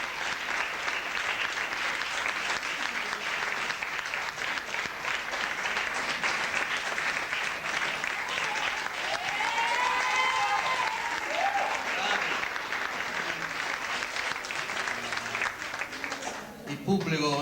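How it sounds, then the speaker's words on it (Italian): A theatre audience gives warm, sustained applause as the author and director of the play is welcomed onto the stage. The dense clapping runs throughout, with voices and cheers rising over it midway and a brief dip near the end. "Vorrei accogliere con un caloroso applauso il nostro autore regista Calogero Maurici"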